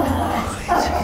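A dog gives short yips and whimpers up close, loud and brief, with people talking around it.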